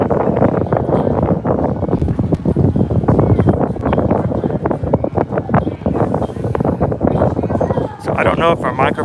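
Strong wind gusting across an outdoor spot at the Walt Disney World resort near the boat launches, a loud, steady roar of buffeting against the microphone that continues under a person talking.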